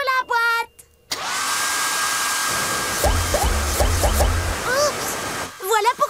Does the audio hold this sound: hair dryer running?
yes